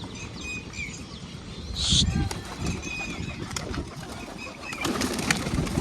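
Pigeons are shooed away from scattered wheat and take off with a brief, loud burst of wing flapping, then faint cooing continues while people talk nearby.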